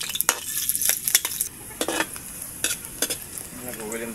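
Garlic and ginger sautéing in a pan: a bright steady sizzle broken by sharp clicks and scrapes of a spatula stirring close by, with no talk.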